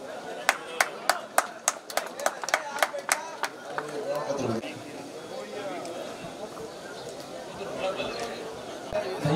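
Audience applause at a bhajan devotional singing competition prize distribution in Ladkui, Nasrullaganj, with sharp separate claps opening the clip, then a sustained wash of clapping and crowd chatter.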